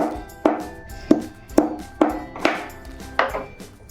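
Seven sharp, regular thuds of a pestle pounding cardamom by hand in a small mortar, close by with metallic ringing after each strike.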